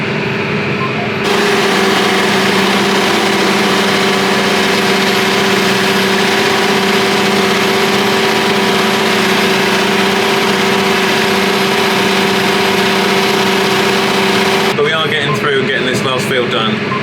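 A tractor engine runs flat out at 2000 RPM pulling a cultivator, a loud, steady, droning roar that holds without letup for most of the stretch.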